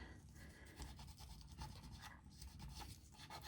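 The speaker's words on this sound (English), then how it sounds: "I'm just taking my toothbrush, getting everything completely off" A toothbrush scrubs sanded polymer clay to clear away residue, giving a steady, close, soft bristly rubbing in short back-and-forth strokes with no voices.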